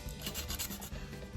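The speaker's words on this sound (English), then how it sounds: "I'm just going to sand a little bit off the bottom" Quick, quiet back-and-forth scratching of sandpaper rubbing paint off the metal frame of a toy train locomotive, a brief burst of rapid strokes close by.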